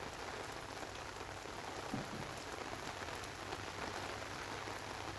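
Heavy rain falling in Ambala, a steady dense hiss of drops on surfaces that holds evenly throughout with no voices.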